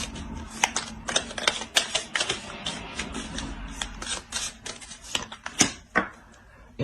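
Tarot cards being shuffled by hand at a table: a run of quick, crisp papery clicks and flutters in uneven bursts, close and fairly quiet, with no talking.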